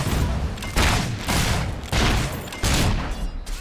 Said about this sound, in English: That's shooting a weapon